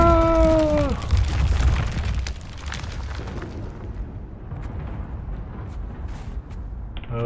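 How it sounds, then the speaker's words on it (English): Explosions in the Subnautica Below Zero video game erupt with a deep booming rumble after a brief tonal sound at the start, then fade into a lingering low roar with scattered crackles. "Explosions!"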